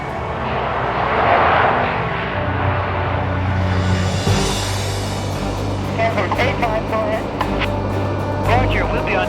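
A four-engine propeller transport aircraft roars steadily and loudly close by, its dense engine drone sustained throughout with a shift in pitch partway, as if the propellers go into reverse thrust.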